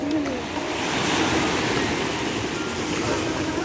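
Large ocean waves roll in at Dinadiawan beach in Aurora, a steady loud roar of surf with wind buffeting the microphone throughout, without talk.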